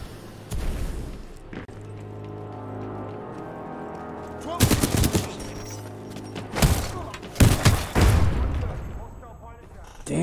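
Shotgun blasts from the first-person shooter Titanfall 2 in an industrial facility: several loud, heavy booming shots in clusters with mechanical clatter between them, over a steady game soundtrack hum.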